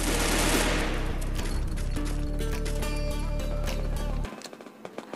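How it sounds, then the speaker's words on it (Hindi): Rapid automatic gunfire in a battle royale video game, dense repeated shots in a steady rhythm that stop abruptly, followed by a few scattered clicks. "उन्होंने बहुत तगड़ा फायरिंग चालू कर दिया वहां से"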